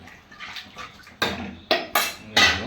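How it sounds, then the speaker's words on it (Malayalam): Water splashes into a pot of homestyle mackerel curry in several short pours, each a bright close gush with metallic clatter between them. "അത് വെള്ളം ഒഴിക്കുക"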